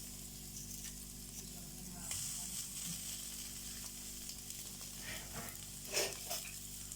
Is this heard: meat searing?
yes